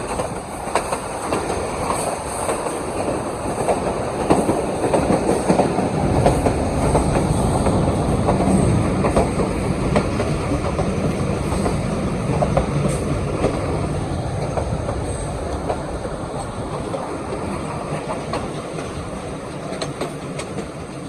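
A Pakistan Railway train between Wazirabad and Malikwal rumbles steadily along the rails with rhythmic clickety-clack of wheels and faint high squeals, loud and continuous throughout.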